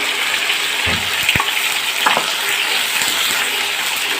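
Steady broadband sizzle of chopped onions and mustard seeds frying in hot oil, with a few clinks and stirring knocks over the constant hiss.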